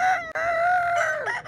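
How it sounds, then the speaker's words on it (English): Cockerels crowing at dawn near a temple in Pattaya, Thailand: one long, loud, close crow with a wavering drawn-out cry, briefly broken, then a shorter rising call at the end. "can you hear them in the background? The cockerels are crowing."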